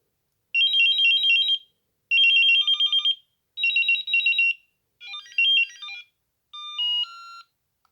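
Alert tones previewed on a Motorola Metro bip FLEX pager: five short bursts of bright electronic beeping melody separated by brief pauses, with the last two quieter and simpler, and no talking.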